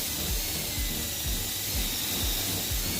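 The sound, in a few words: drill with metal bit drilling into wood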